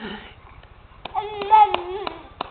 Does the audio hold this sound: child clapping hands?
yes